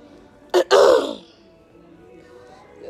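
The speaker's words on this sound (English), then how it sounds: "I clear my throat" A single person with a cold and an itchy throat clears it once, a short harsh rasp followed by a longer throaty burst, close up in a quiet room.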